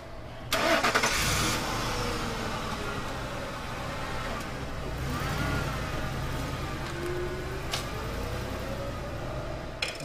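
A car engine cranks and catches, then keeps running in a steady rumble at close range with some noise over the top, no voices.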